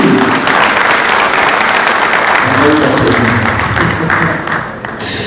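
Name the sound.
conference audience applause for speakers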